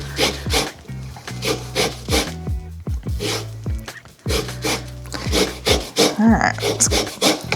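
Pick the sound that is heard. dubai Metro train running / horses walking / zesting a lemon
zesting a lemon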